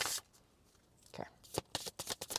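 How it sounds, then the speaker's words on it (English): Tarot cards are shuffled up close in a quick burst of riffling flutters toward the end, following a brief quiet stretch. "I feel called to really only pull one card today,"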